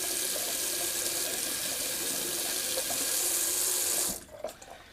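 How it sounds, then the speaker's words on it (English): Tap water pours steadily into a sink while a razor is rinsed, a loud continuous splashing rush that cuts off near the end, leaving a few drips and small clinks. "Let me just rinse off my razor real quick."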